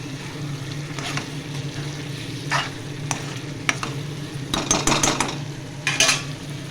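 A spoon stirs fried boiled eggs in a frying pan, giving soft scraping and clinking strokes in irregular bursts over a steady low sizzle, close and moderately loud.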